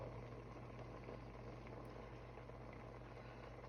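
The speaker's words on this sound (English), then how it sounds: "It's coming back to a boil" A pot of chicken bog on a stovetop burner coming back to a boil, a faint, steady bubbling hiss with a low hum underneath, unbroken and quiet.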